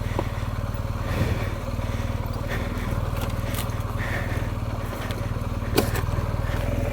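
A BMW R 1250 GS motorcycle ridden hard off-road, its engine a steady, loud, close rumble, with occasional clatters and scrapes from rough ground.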